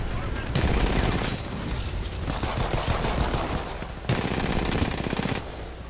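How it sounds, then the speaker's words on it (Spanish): Rapid bursts of Hammond P2016 pistol fire in the shooter game Titanfall 2, loud repeated shots in dense volleys with brief gaps between bursts. "No hace mucho daño esta pistolita. De hecho, hay que meter muchísimos tiros."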